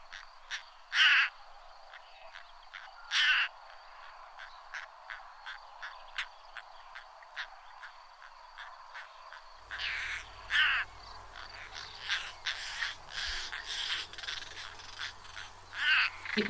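European roller alarm calls: scattered loud, harsh rasping notes over a faint ticking background. A rougher, noisier stretch follows partway through with more frequent calls, and no one speaks.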